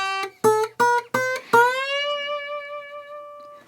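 Slide guitar plays a short melody of a few plucked notes, sliding into the first and last, with the final note held and shaken by vibrato as it rings out and fades alone.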